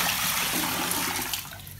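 Rust-laden water dumped out of a bucket makes a loud, rushing splash close by that tapers off toward the end, with no talking.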